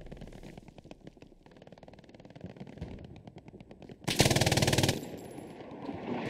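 Sustained machine gun fire from a Hell Let Loose match: rapid, fairly even bursts at mid distance, then a sudden loud, harsh blast of closer gunfire that ends abruptly, with more distant shooting continuing.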